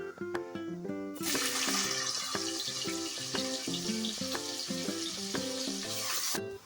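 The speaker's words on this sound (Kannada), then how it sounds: "ನೋಡಿ, ನಾನು 1 ಬಟ್ಲಷ್ಟು ಸಣ್ಣಗೆ ಹೆಚ್ಕೊಂಡಿರೋಂಥ ಈರುಳ್ಳಿ ಹಾಕೊತಾ ಇದ್ದೀನಿ." Chopped onions hit hot oil with cumin and break into a loud, steady sizzle that holds for several seconds, with melodic tones running underneath.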